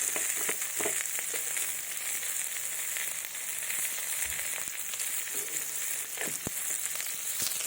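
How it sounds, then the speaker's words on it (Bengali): A small amount of oil sizzles steadily in a pan, a continuous bright hiss at a fairly close distance with a few faint clicks and pops, and no voices. "আমি অল্প একটু তেল দেবো"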